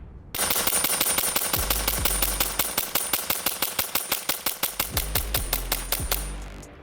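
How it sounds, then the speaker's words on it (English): A paintball marker fitted with an XLP regulator fires a long, rapid, steady string of shots over a chronograph at a field, each sharp pop evenly spaced, loud and close with no talk. "now we're gonna go shoot it over the chrono and see how consistent the XLP regulator is"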